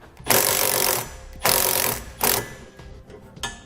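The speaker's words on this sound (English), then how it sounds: "now we'll tighten them up with a 16mm socket and wrench." A ratchet wrench with a 16mm socket clicks loudly in three long bursts and a short final one, tightening lock nuts while installing a trailer hitch receiver on a 2017 Ford Explorer.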